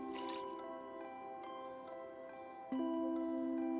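In the video game Omori, a watering can sprinkles plants with a short burst of splashing water at the start, then only soft background music continues.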